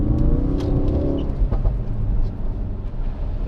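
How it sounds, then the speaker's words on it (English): Ford Focus RS accelerating hard out of a corner, a loud low engine rumble that rises in pitch early on, then settles into a steady roar with road noise, close and alone. "that's just me trying to accelerate out of a corner like I would have done in my Fiesta"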